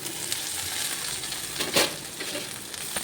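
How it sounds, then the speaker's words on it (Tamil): Fenugreek leaves sautéed with onion in a pan give a steady, soft sizzle, broken by one brief metallic clink of a utensil in the middle. "இப்போ நம்ம அந்த கீரையை வந்து நல்லா வதக்கிடலாம்"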